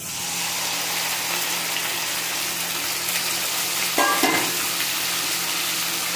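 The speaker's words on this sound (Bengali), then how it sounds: "দিয়ে আমি ভালো রকম কষিয়ে নেব।" Onion, garlic and potato sautéing in a pan with ginger, green chilli and tomato paste, a steady close hiss of frying with one brief clatter of the paste going in near the end.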